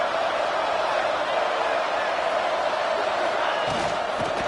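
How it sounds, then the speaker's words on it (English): A football stadium crowd roars to urge its defense toward a red zone stop, a dense, steady, loud wash of noise that holds without a break. "And here comes the noise. This crowd is trying to inspire this defense to make a big red zone stop."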